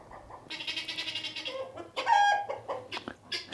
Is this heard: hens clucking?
yes